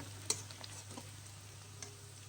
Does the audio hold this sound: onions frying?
yes